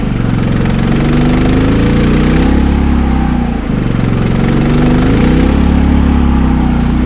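Harbor Freight generator running on natural gas during a winter blizzard, a loud, steady engine drone close by with a slight dip in pitch partway through as the load changes, no voices.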